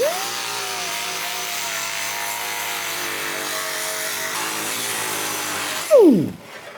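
Air grinder grinding old body filler off the rocker panel area of a 1965 Thunderbird Convertible, a steady high-pitched whine that holds for several seconds, then spins down with a falling pitch at the end.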